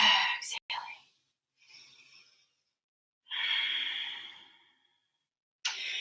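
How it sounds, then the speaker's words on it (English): Slow breathing during a gentle stretching exercise: a brief voiced sound opens, then a faint breath, a long, clear airy exhale in the middle and a short breath at the end, close with quiet gaps between. "Inhaling. Exhaling."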